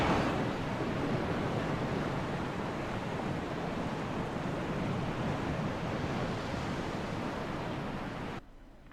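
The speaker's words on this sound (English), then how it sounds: "You hear the sound of a waterfall in the distance." A steady broadband rush of a distant waterfall in the video game Resident Evil REmake, continuous and fairly loud throughout before cutting off abruptly near the end.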